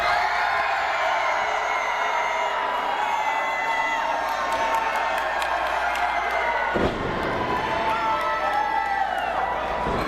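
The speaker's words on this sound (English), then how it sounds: "That is a hell of a crowd reaction." A wrestling crowd at a Capital City Wrestling championship match roars with loud, sustained cheering, whoops and shouts, surging sharply near the end as a burst of noise hits, the din dense and continuous throughout.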